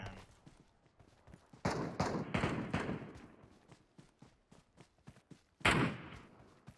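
Gunfire in the mobile battle-royale game PUBG Mobile's Metro Royale mode, with a rapid string of sharp shots and a few louder, heavier bursts. The shots are irregular, some close and punchy, others fainter.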